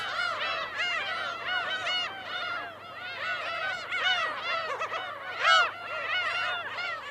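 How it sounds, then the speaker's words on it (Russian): A dense colony of black-tailed gulls calling over one another, a continuous chorus of harsh, overlapping cries with one louder squawk standing out near the end. "Местная колония чернохвостых чаек самая крупная в мире."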